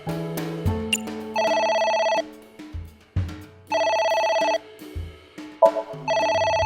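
A telephone ringing in the video game AI: The Somnium Files, repeated electronic ring bursts in a steady on-off pattern, clear and close over soft background music.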